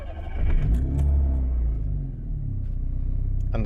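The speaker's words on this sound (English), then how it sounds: "the tiny little four-cylinder engine fires into life" A Daihatsu Mira TR-XX Avanzato Turbo with a swapped-in small four-cylinder engine starts up. The engine catches with a loud, close rumble and surge, then settles into a steady, slightly uneven idle.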